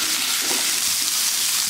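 Vegetables with bell peppers and a pinch of salt sauté in a pan, giving off a loud, dense, continuous sizzle with faint stirring underneath, close by and with no voices.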